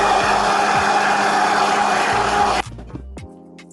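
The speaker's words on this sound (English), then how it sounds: "I also place them into the blender, and I'll be adding some of this liquid too into the blender. Yeah, it's time to blend." A kitchen blender whirs loudly and steadily as it purees pineapple skins with liquid. Its motor tone holds for about two and a half seconds, then cuts off and winds down.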